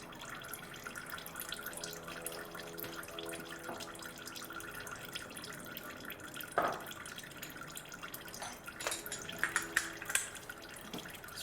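Engine oil from a 2014 Nissan Note drains steadily, a faint continuous trickle and drip with a few sharper splashes and clinks toward the end, quiet and close.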